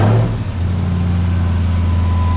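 A supercharged Ram TRX fitted with a CPS cold air intake fires up, a short loud burst of engine noise settling at once into a steady low idle hum with a faint whine.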